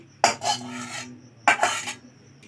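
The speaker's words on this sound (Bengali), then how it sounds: "আমি আবারও কড়াই বসিয়ে দিয়েছি" A wok (kadai) is set down on a kitchen stove with two separate metallic clanks and scrapes, close and fairly loud, with quiet pauses between and no talking.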